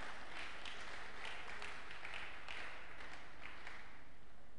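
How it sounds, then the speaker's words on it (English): A crowd claps in a brief, steady round of applause, dense and moderately loud throughout with no voices over it. "give them a round of applause"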